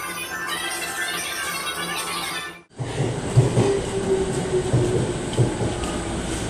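JR commuter train arriving at Shinagawa station during evening rush, a steady rumble of rail cars and wheels rolling along the platform after a brief drop in level, with faint squeals and clatter throughout.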